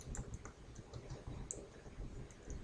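Computer keyboard typing while entering spreadsheet text: a quiet, close series of light irregular key clicks with small pauses between them, alone without talk.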